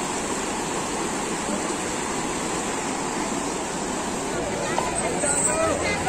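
Haridwar river swollen by rain rushes over and between gaps in stones, a loud, continuous roar of water that fills the whole moment without pause.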